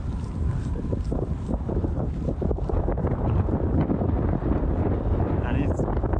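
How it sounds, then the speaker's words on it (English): Strong wind at sunset in the countryside near Perleberg, Germany, buffets the microphone in a steady, roaring rush of low rumble, with a voice talking faintly underneath. "And it's very windy."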